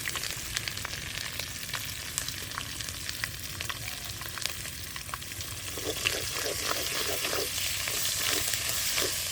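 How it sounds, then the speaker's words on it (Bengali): Black mustard seeds, dry red chilies and a few garlic cloves temper in hot oil for a village-style sapla and prawn dish, a dense continuous sizzle with sharp popping crackles that thicken toward the end, close and alone. "এবারে ফোড়ন দেব কালো সর্ষে শুকনো লঙ্কা আর কটা রসুন"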